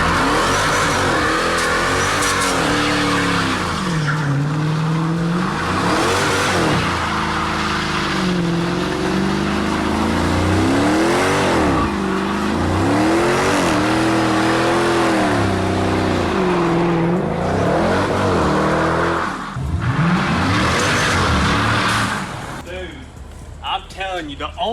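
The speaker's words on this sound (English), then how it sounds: "this is the best burnout I've seen so far." A supercharged former police car does a burnout, engine roaring and revving hard in repeated surges, tires spinning with a rising whine, sustained and close before easing off.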